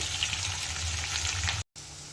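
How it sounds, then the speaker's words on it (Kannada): Onions, curry leaves and green chillies frying in oil in a pan, a dense steady close sizzle with faint crackling, cutting out for a moment before resuming. "ಈರುಳ್ಳಿ ಚೆನ್ನಾಗಿ ಮೆತ್ತಗಾಗೋವರೆಗೂ ನಾವು ಎಣ್ಣೆಯಲ್ಲಿ ಹುಡ್ಕೋಬೇಕಾಗತ್ತೆ"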